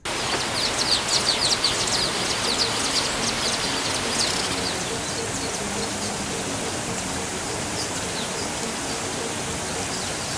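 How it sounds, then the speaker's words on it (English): Birds chirp and call in the trees around Sezibwa Falls, Uganda, most busily in the first few seconds, over a steady rush of falling water. "Sezibwa Falls area is among the so many places where you will find a number of birds."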